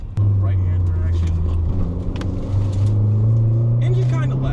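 A Mazda daily driver with a stock clutch and flywheel revs hard, its loud, steady engine drone climbing in pitch and holding near the limiter throughout.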